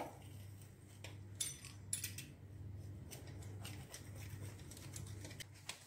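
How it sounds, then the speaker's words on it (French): A pizza cutter rolls through brick pastry sheets, making faint, repeated crisp scraping and slicing strokes close by in a quiet room. "Moi, je vais le faire avec un coupe pizza."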